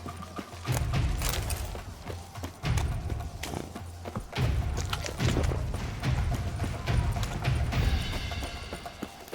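Horse hooves clip-clop in repeated heavy bursts in The Witcher 3, with a whinny and some mechanical clatter in the background.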